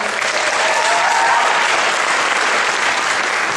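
An audience at a Talent for Education event applauds the a cappella group Acapology, a thick, continuous wash of clapping that stays loud and even throughout, with no voices rising above it.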